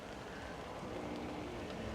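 Rain falls steadily at Manchester Airport, a faint, even hiss of drops on surfaces with no voices.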